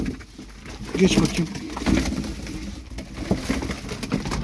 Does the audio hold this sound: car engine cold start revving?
no